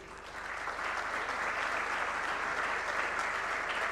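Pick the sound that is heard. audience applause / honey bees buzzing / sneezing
audience applause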